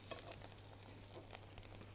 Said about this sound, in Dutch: De pannenkoekjes, zie je, die bakken mooi.